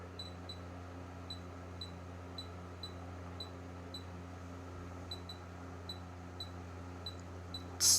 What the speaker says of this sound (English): without it making that beep in order for it to be calibrated